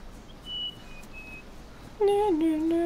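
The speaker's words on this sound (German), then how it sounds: "Man hat einen Vogel, der hat so gepfiffen" A bird whistles in the video game DayZ with thin high chirps early on. Then a louder, nearer whistled tune sweeps in pitch over soft ambient noise.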